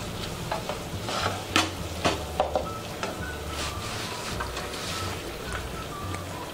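Green chili, ginger and garlic paste sizzles in a pan for zunka and is mixed with a spoon, giving a steady close frying hiss broken by a cluster of quick scraping clacks; no talking.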